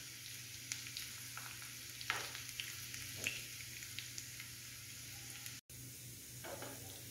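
Chopped garlic sizzles in hot oil for a tadka in a home kitchen, a steady close frying hiss broken by a few scraping stirs of a spoon, with no talking.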